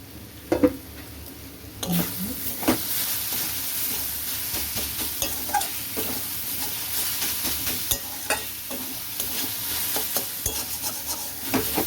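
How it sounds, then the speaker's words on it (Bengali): Beetroot frying in a pan for beet bhaja, a steady oily sizzle with intermittent spoon scrapes and taps as it is stirred, close and continuous, no speech. "এটা আরেকটু ভাজা হবে।"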